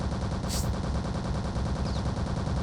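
Silenced gunshots fire in the 2001 shooter game Return to Castle Wolfenstein: a dense, steady run of muffled shots that stays loud throughout, with no talking.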